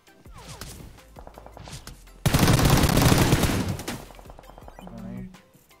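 Automatic gunfire in the battle royale mobile game PUBG Mobile, a loud sustained burst of rapid shots in the middle, with shorter bursts and voices talking around it.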